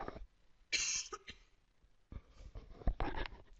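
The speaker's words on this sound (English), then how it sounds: "Sorry, guys, I have a cough." A person coughs a few times in short bursts, close and fairly loud, with quiet pauses between.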